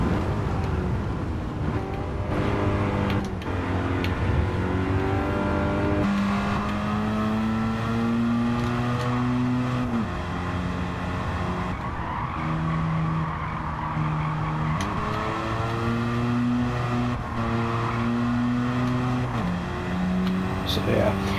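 A Mazda RX-7 rotary sports car is driven hard and fishtails, with the engine rising and falling in pitch as it revs, tires squealing as it slides, and someone talking over it throughout.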